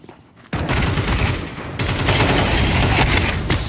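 Rapid automatic gunfire in Counter-Strike 2, a loud continuous burst of shots after a short quiet start, dense and close with a slight break midway, no voices.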